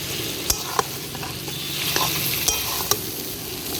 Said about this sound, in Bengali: নাড়ছে অনেকক্ষণ ধরে, হালকা হালকা কষা হয়ে গেছে।